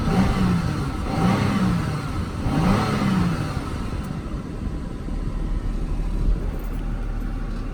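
A 2004 Acura RL engine idling and revving, with a steady mid-frequency rumble, a few rising-and-falling rev swells early on, then a settled idle. Any lifter tick is faint beneath the engine drone.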